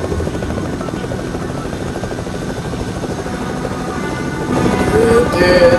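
Video-game helicopter rotors and engine drone steadily and loudly throughout, growing louder near the end with a few brief tones over the top.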